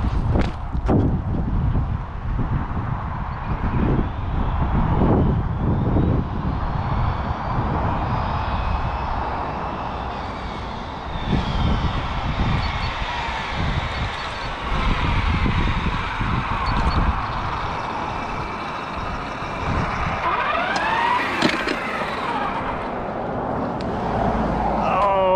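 Arrma Limitless GT RC car with a 1721-2400kv motor and Onyx 8k batteries on a speed run, its high electric whine rising and fading as it passes, with outdoor wind rumble, footsteps and brief talk.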